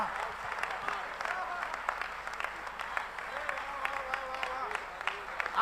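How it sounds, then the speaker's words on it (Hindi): Audience applause at a Hindi kavi sammelan of heroic verse by poet Vineet Chauhan: a steady wash of clapping from a crowd at moderate loudness, with faint voices underneath. "आपकी तालियां इन्हें मदहोश करे मेरे भाई"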